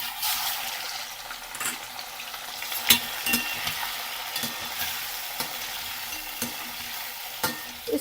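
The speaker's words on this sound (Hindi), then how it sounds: "इसको हम कलर चेंज होने तक फ्राई करेंगे" One kilogram of mutton chops frying in a pan for a wedding-style mutton korma, with a steady close sizzle broken by repeated stirring scrapes and clinks of a spoon, and no talking.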